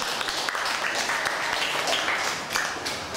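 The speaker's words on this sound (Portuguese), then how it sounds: "Ela merece mais uma salva de palmas." Classroom applause for a student, a brisk crowd of hands clapping together, fairly close and even in loudness for a few seconds with a faint voice underneath.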